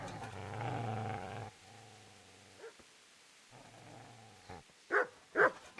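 A dog growls in the medieval video game Kingdom Come: Deliverance, with a low sustained snarl followed by quieter growling and a few sharp barks near the end, heard alone without talk.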